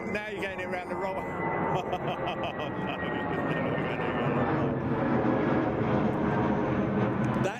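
A Cargolux freighter in masked livery at Heathrow gives off a steady, loud aircraft engine roar that holds through the whole stretch, with a voice talking over it.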